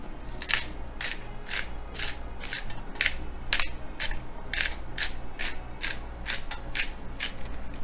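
Black pepper is ground from a mill over meat in a home kitchen: a close series of about a dozen crunchy grinding twists in a steady rhythm, with no talking.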